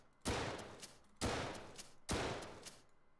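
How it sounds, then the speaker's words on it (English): Three separate loud gunshots from the tactical shooter Ready or Not crack out close by, each with a sharp attack and a decaying tail, spaced about a second apart, with no talking. "I just put 4 rounds into this dude"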